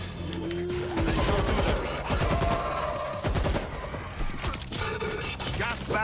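Gunfire in the zombie shooter World War Z, rapid cracking shots in short clusters within dense, noisy battle ambience, with voices talking through the scene.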